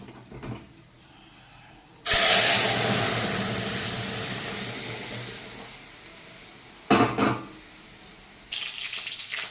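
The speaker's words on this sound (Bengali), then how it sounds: "এখন ফোড়নে দিয়ে দেবো দুটো শুকনো লঙ্কা।" Dry red chillies, a bay leaf and panch phoron hit hot oil with a sudden loud sizzle that slowly fades, flaring again twice as the spices are stirred.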